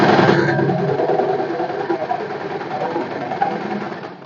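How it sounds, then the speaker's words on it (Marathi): A sewing machine runs at speed stitching kurti fabric, a close, fast, even whirring hum that eases slightly after the first half second. "इथे स्टिच करायचं आहे"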